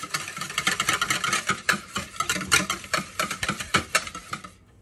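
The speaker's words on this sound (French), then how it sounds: "Je vais mélanger le tout." Oil and ingredients for a carrot-top batter mixed together in a bowl, rapid clicking and scraping strokes in an uneven rhythm, close and busy, ending abruptly.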